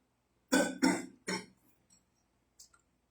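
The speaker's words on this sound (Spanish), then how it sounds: "Disculpen la tos, hoy está fatal" A person coughs three times in quick, close succession, followed by a faint brief throat sound, in a quiet room with no talk.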